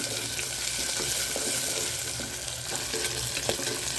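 Onions sautéing in a pan with salt added, a dense continuous hiss of frying at steady loudness with faint stirring ticks throughout, close by and uninterrupted.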